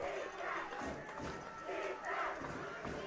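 High school football championship crowd cheering for the Lions, a distant roar of many voices swelling and easing in waves.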